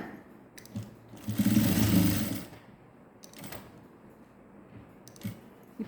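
A sewing machine runs in a short burst while stitching a skirt made from an old silk saree, with quieter mechanical ticks and handling sounds before and after the run.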